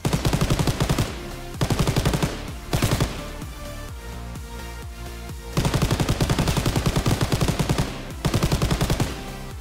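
Automatic WW2 guns fire in Garry's Mod, loud rapid bursts of machine-gun fire separated by short pauses, with several bursts in a row over a continuous game sound bed.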